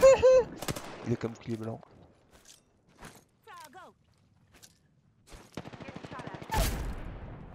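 Gunfire bursts in the Apex Legends battle royale game, a sharp loud volley near the end with scattered shots earlier, mixed with someone speaking excitedly in French.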